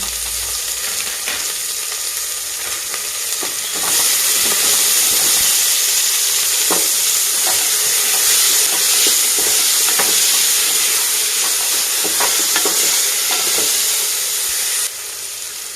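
Onion, cinnamon and cloves sizzle steadily in oil in a pan for vegetable pulao, a continuous close frying hiss that grows louder partway through, with occasional stirring clinks and no talking.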